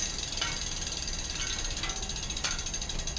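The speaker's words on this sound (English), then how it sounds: "I've heard the freewheel is really loud," A rapid, steady ticking of a bicycle freewheel on a HUNT 38 Wide Aero carbon wheel clicks continuously, bright and fairly loud, with slight surges as the wheel spins.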